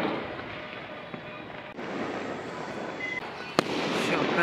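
A Diwali fireworks shot bursts outdoors over steady wind-like noise, with one sharp loud crack near the end and scattered smaller pops.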